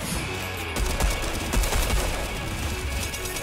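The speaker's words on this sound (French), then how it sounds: "ça tire dans tous les sens" Rapid automatic gunfire in a video game, a dense sustained burst of shots running the whole stretch at close, loud level with no talking.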